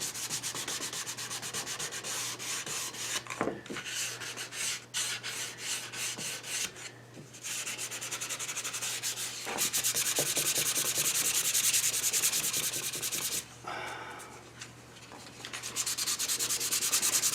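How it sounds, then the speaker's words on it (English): Sandpaper rubbed by hand over a cherry wood tray, fast repeated back-and-forth scratching strokes heard close and steady, with brief pauses between bursts and no talking. "it's a muscular theory, that I sand better if I sand fast"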